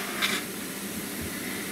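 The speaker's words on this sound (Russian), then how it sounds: "Водичка уже почти закипает, шипит." Water in a pot on the stove nearing the boil, a steady broad hiss close by with faint low bubbling underneath, no voices.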